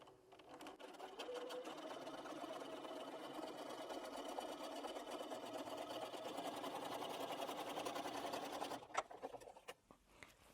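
A sewing machine runs steadily for about nine seconds, machining stitch lines either side of a crease on an hourglass quilt, then stops and leaves a few soft clicks.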